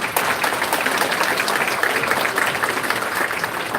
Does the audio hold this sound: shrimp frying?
no